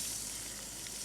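Poached zucchini, yellow squash and eggplant reheating in olive oil give a steady, close hiss and sizzle with no pauses through the short moment.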